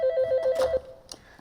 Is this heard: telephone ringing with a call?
yes